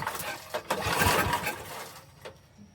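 A small carbureted engine with a leaking carburetor, set on choke, cranks and catches in a loud rough burst, runs briefly, then fades toward quiet.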